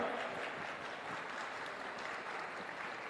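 A crowd at a smartphone launch event for the Oppo K13 Turbo claps and cheers in a continuous, even wash of sound, heard from some distance and without talk over it.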